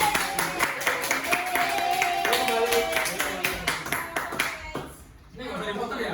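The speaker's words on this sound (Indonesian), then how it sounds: "beri aplaus buat kelompok 2" Classroom audience applause for a student group at a junior high teacher-training session, a burst of dense clapping lasting several seconds, fading out with a brief pause before more noise.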